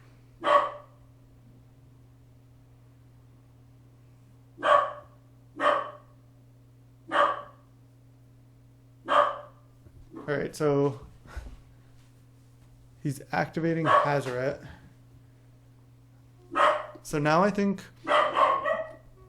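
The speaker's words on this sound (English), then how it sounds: "Sorry for the dog barking." A dog barks repeatedly indoors, single sharp barks at first and then quicker clustered bursts, moderately close, while someone talks over and between them.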